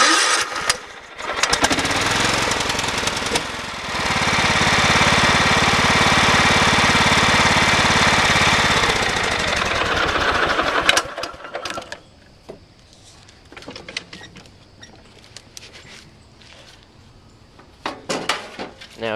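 Craftsman LT2000 lawn tractor engine running steadily after a cold start, a loud continuous drone for about ten seconds that cuts off abruptly, followed by quieter clanks and handling noises.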